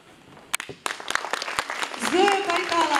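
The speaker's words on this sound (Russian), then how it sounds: "ваши аплодисменты" Audience applause at a stage performance, scattered claps that quickly swell into steady clapping from a crowd while a voice speaks over it.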